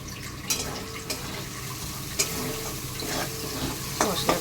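Spice paste sautés in a pan for a Bengali greens stir-fry, giving a soft, steady sizzle up close. A few sharp scrapes from stirring break through, and there is no talking.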